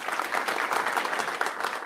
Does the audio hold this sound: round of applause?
yes